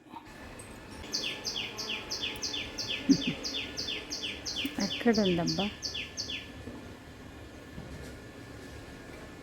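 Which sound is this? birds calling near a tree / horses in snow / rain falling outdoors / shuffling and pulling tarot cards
birds calling near a tree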